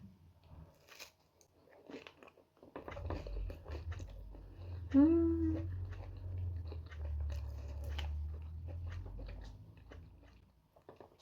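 Diabetic-friendly khachapuri with stretchy cheese, dipped in egg yolk, being bitten and chewed close to the mic: soft moist crunching and munching with a short squeaky tone in the middle, fairly quiet throughout.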